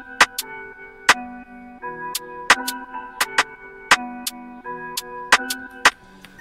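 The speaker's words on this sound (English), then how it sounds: "This is the second hat." A second hi-hat pattern in a bouncy beat: sharp, unevenly spaced hat hits, some in quick pairs, play over a repeating melodic loop. Nothing else is heard.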